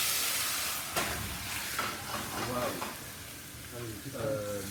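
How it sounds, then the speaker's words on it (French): Crayfish shells sizzle in hot olive oil while being flambéed with cognac, a broad steady hiss and crackle with a sharp knock near the start, and a voice talking over the frying toward the end. "Cardinalisez vos carcasses d'écrevisses à l'huile d'olive. Flambez au cognac."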